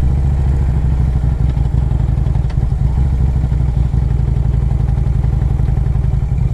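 A 2007 Harley-Davidson Road Glide with a 113 Screaming Eagle engine rumbles loud and close during a test ride, its deep, steady engine throb continuous with faint clatter throughout.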